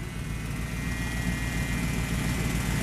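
A running Ford F250 gives off a steady, high whine from its power steering over a constant low engine rumble, heard close and without interruption for about three seconds with no voices.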